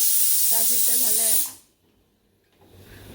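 A pressure cooker cooking chicken blows its whistle with a loud, close hiss of escaping steam and a wavering tone, then cuts off abruptly halfway through, leaving near silence.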